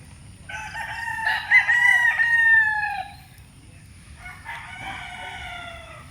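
A rooster crows loudly nearby, a long drawn-out call, followed by a second shorter crow, with faint clucking and background hiss.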